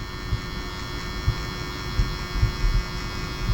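A zero-gap hair trimmer runs with a steady electric hum and a faint throbbing buzz, close and constant, with small bumps in loudness and nobody speaking.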